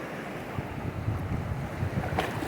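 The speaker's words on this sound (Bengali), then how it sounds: "দেখতে পাচ্ছেন বকখালির ঢেউ খুব খারাপ না, চলার মতো।" Sea waves rolling in at Bakkhali beach, a steady broadband surf wash mixed with wind buffeting the microphone, moderately loud with no voices.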